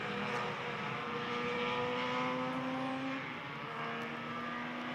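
Race car with a 1.6 liter Toyota engine at an SCCA race, a distant, steady engine drone holding one pitch before easing slightly, heard faintly alone.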